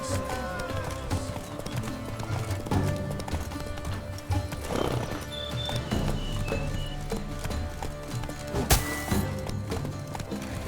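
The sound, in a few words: horse galloping in The Witcher 3 Blood and Wine video game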